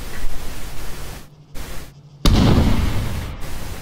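A frag grenade goes off in a military game: a sudden loud blast erupts after quieter static-laden noise with brief dropouts, and its roaring rumble holds to the end.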